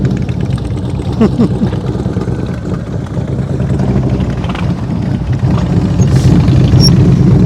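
A motorcycle engine running at low speed during slow-speed riding practice, a steady mid-level drone close by that holds fairly constant throughout, with a voice talking over it.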